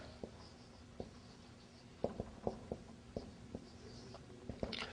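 Handwriting with a pen on paper: a series of short, soft taps and scratches in an uneven rhythm, close and quiet, with no speech over it.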